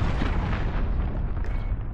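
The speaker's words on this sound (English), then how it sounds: "Missile incoming, take cover." A missile blast in a shooter game set in a jungle, heard as a loud, continuous rumbling roar that stays heavy and steady throughout, with no voices.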